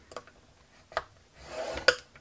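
A few short, faint scratching strokes of a tool scoring paper for the base of a rectangular lidded box, ending in a brief rasping drag and a light tap.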